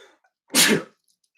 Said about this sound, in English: About to sneeze though.